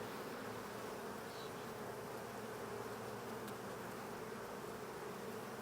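Dense, steady drone of many honey bees swarming around an open hive under inspection, a continuous close buzzing that fills the air with no talk.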